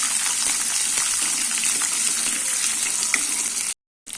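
About fifteen small shallots fry in hot oil in a pan for a mixed-vegetable kathamba chutney, giving a steady, loud, close sizzle that breaks off into brief silence just before the end.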